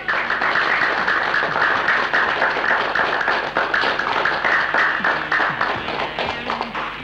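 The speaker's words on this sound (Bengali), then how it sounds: "আরে বাহ, তালি" Sustained applause from a crowd in a film scene, dense rapid hand claps filling the whole stretch at steady loudness, with scattered louder individual claps standing out.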